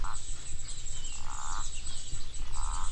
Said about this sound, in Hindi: इस पानी में ही मेंढक बोल रहे हैं जो आपको आवाज़ें आ रही हैं।